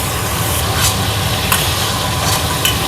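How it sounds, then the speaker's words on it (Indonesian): Sambal ingredients fry in a pan until half-cooked, giving a loud continuous sizzle. A utensil stirs through them with a few soft scrapes and taps spread across the sizzling. "Goreng setengah mateng aja."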